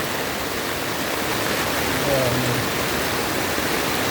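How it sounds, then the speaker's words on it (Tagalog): Water pours down steadily from above, a dense continuous rush like a small waterfall or heavy runoff, fairly close and unbroken throughout. "Dito lahat ang baba ng tubig galing sa taas"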